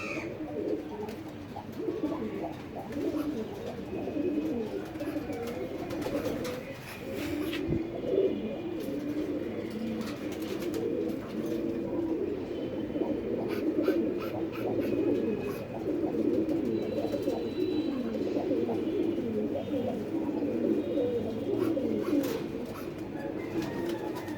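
Several molting pigeons coo continuously in a loft, a dense overlapping murmur of low throaty calls at steady volume with occasional clicks and rustles.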